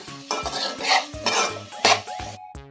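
Onion pieces stirred and frying in a pan for an Andhra egg curry, with repeated scraping and clinking of a utensil against the metal pan over a soft sizzle, close and fairly loud, no talking.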